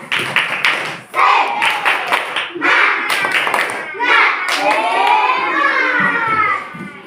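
Children at a school clap their hands together in a quick, steady rhythm while chanting along in unison, the claps sharp and close over their voices.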